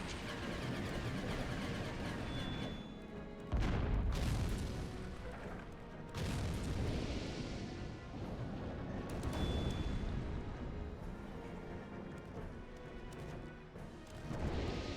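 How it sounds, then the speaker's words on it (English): Destroyed buildings explode in the Chromehounds mech combat video game, producing heavy booming crashes with several loud impacts and rumbling debris across a dense, continuous battle din. "they'll all be taken out by the explosion"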